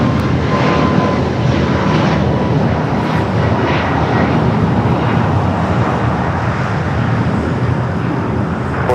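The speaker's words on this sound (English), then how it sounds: "Now finally taking off. The 737 MAX 8." A Boeing 737 MAX 8 jet taking off at Los Angeles airport, a loud, continuous engine roar with broad rushing noise that holds steady throughout.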